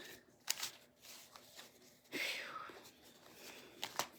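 Cards riffle and shuffle softly in a quiet room, with scattered taps and a brief breathy whisper in the middle.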